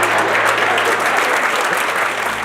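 Loud, sustained applause from a crowd, dense clapping filling the whole stretch without letup.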